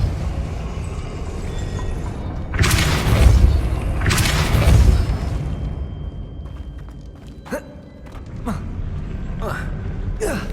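Depulso spell impacts in Hogwarts Legacy land as two loud, close whooshing blasts a couple of seconds apart, followed by quieter sharp clicks and knocks, with a voice speaking at times.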